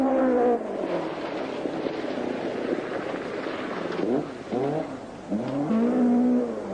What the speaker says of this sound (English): Driving one of the 6 Chevettes entered on the event is George Hill, seated at 21